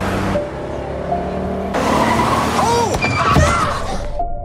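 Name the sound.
car braking suddenly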